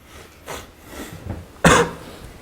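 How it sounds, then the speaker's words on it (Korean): A person coughing close to the microphone, a few soft throat sounds building to one loud, sharp cough near the end. "내가 기침하면서 고개 숙이면서 여기다가 기침을 해버렸어."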